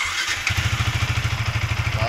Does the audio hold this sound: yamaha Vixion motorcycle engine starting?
yes